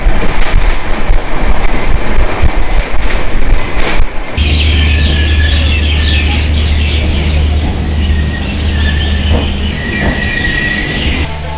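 Howrah–Ranchi Intercity Express train running toward Adra Junction, a steady loud rumble of wheels and carriages with a sudden shift to a deeper droning roar and faint high squeals and chirps above.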